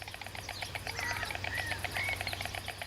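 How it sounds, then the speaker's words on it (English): Sparrows chirp busily around communal stork nests along the Sava River in Croatia, a steady run of bright, close tweets over a low background hum, with no voices. "There are always several sparrow families living here as lodgers."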